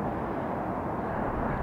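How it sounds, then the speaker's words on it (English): A Boeing 737 settles onto runway 26 right at Hartsfield-Jackson Atlanta International Airport, giving a steady, even engine rumble, distant and continuous with no voices over it. "737 settling down on 26 right."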